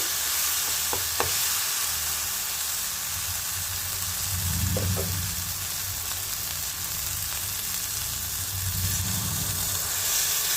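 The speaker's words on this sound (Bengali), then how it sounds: "এবার আমি এখন জল দিয়ে দেবো" Rupchanda pomfret fish curry frying in oil in a pan, a steady sizzle with stirring scrapes, then water poured in twice, each pour giving a brief bubbling surge before the hiss settles.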